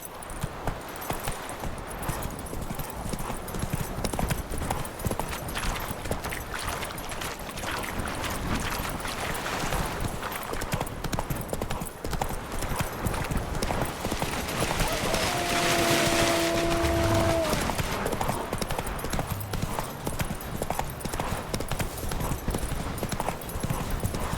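A horse gallops with a steady, rapid clip-clop of hooves throughout, close and continuous, in the video game Witcher 3: Wild Hunt, with a brief neigh partway through.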